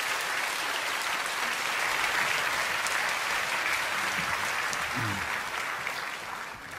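A church congregation applauds during a Sunday worship service, steady dense clapping filling the whole stretch and tapering slightly at the end.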